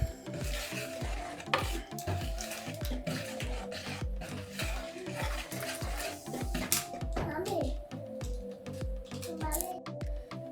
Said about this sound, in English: then you'll go ahead and whisk all that together.